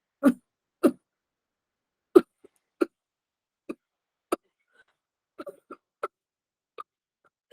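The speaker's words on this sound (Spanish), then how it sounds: "¿Cómo tose un perro con neumonía?" A dog with pneumonia coughs in about a dozen short, dry bursts, some single and some in quick pairs, spaced irregularly with quiet gaps between, fairly close and unaccompanied.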